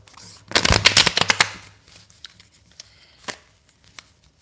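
A tarot deck being shuffled, a fast burst of crisp riffling card flutters up close followed by a few scattered soft card taps and handling clicks, with no talking.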